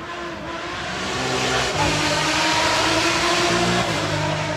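A Maserati Bora at a hill climb runs loud and steady, its engine note rising and holding as it passes nearby, though no distinct backfire pop stands out.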